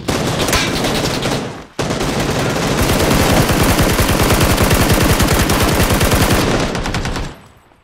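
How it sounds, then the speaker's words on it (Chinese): Automatic gunfire in the PUBG video game rattles out in long, rapid bursts, loud and close. There is a brief gap before sustained firing resumes, and the shots fade out at the end. "他在拿枪了，他开枪"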